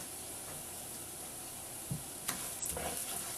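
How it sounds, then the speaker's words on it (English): Raw uncooked brown rice being stirred in a pan with softened onions and fat, giving a steady close sizzle with a few scraping stirs toward the end. "just stir it around until it starts to brown and or starts to turn yellow"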